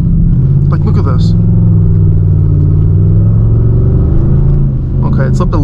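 A 2nd-gen Dodge Charger RT AWD accelerates on snow at night, its engine a steady, loud low rumble heard from inside the cabin, with a person talking over it.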